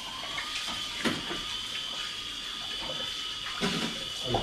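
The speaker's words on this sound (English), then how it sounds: "wash your hands a sec." Tap water runs steadily from a faucet as hands are washed in a home kitchen, a continuous hiss with a few louder splashes and clatters, and no talking.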